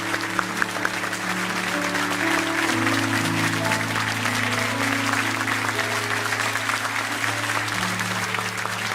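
A church congregation at a New Year's Eve service applauds elders stepping down, dense steady clapping throughout, with sustained organ or keyboard tones beneath the applause.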